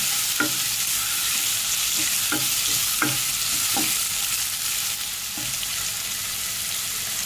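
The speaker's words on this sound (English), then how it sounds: "so we'll cook this onion till it will become brown a little brown" Onion frying in a pan until brown for Hyderabadi chicken, a close, constant sizzle broken by several sharp scrapes of the stirring spoon.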